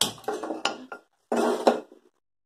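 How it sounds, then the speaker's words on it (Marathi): A metal kadhai (wok) clatters and scrapes in two short bursts as it is set on a gas stove, close and fairly loud, then falls silent. "गॅस चालू करून कढई तापत ठेवली आहे."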